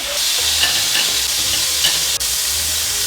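Steaks frying in a pan after a splash of cognac, a loud steady sizzle and hiss with faint stirring clinks throughout.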